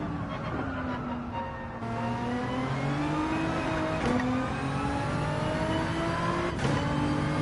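Car engine in Gran Turismo 7 revving steadily and climbing in pitch, with a couple of quick upshifts where the note drops before rising again, close and continuous throughout.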